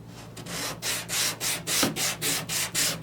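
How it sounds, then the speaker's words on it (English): A sanding block is rubbed back and forth across a car body panel. Eight or nine even, close strokes give a rhythmic, raspy scrubbing with no talk. "So as I sand across this panel and come into this area of transition, the edge is going to conform."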